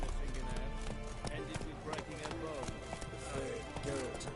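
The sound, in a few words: horse Roach galloping in Witcher 3 video game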